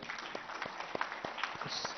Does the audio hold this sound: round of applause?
yes